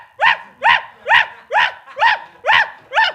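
A man imitates a dog barking with seven evenly spaced, loud, woofing barks in a steady rhythm, close to the microphone.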